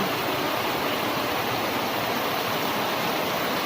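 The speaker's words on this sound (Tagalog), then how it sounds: "Yan, umaapaw na." Flood water overflows from a canal into a house, a steady dense roar of rushing water filling the scene without pause and with no voices.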